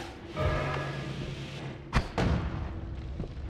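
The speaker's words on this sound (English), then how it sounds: "Kind of the unsatisfying explosion, really." An explosive spell detonates in the video game Noita, a couple of sharp, loud booms in quick succession over a steady game backdrop, with no speech.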